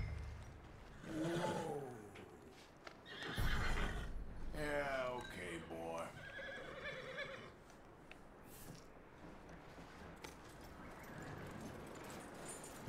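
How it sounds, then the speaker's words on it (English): Horse in the Red Dead Redemption 2 video game gives several loud, wavering neighs and whinnies, with softer snorting and shuffling afterward. "We got ourselves a horsey."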